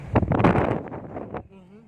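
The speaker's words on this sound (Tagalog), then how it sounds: "malakas yung hangin" Strong gusts of wind buffet the microphone in loud, rough bursts, ending with a brief quieter tail.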